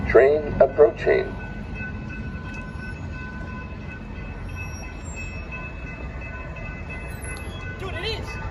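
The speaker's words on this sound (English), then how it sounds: "Train approaching. Train approaching." A train approaching on a suburban railway line at Downers Grove, a low rumble that builds steadily from a distance, with a few short bursts of voice at the start.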